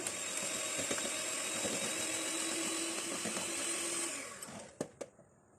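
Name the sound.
beating 75 grams of butter for almond fudge cookies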